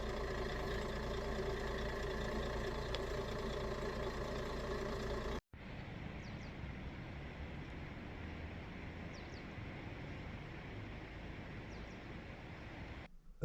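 Camper bus engine idling with a constant low rumble, heard in two steady stretches split by a brief cut, no voices.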